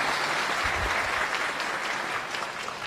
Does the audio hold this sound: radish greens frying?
no